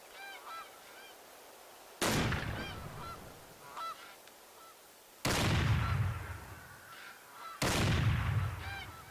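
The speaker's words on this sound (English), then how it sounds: "Here comes a flock of geese." A flock of geese honks repeatedly at middle distance during a hunt, broken by three loud shotgun blasts whose booms ring out and decay between the calls.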